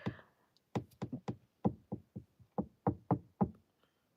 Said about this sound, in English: I'm sure you guys hear the knocking.